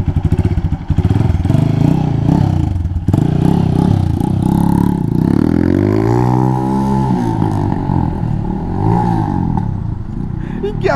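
A motorcycle on a group ride in Jamaica, its engine loud and close, revving up and dropping back in uneven surges as the rider struggles to find a gear, with voices over it.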